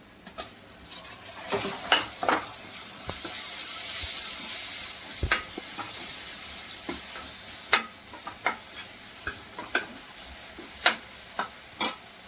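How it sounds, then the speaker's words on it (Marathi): Onions frying in a pan as they brown for a potato gravy, a steady sizzle with a hiss of steam, punctuated by regular scraping clicks of a spatula stirring against the pan, close and fairly quiet, without speech. "कांद्याला चांगलं कलर येऊयापर्यंत भाजून घेऊया"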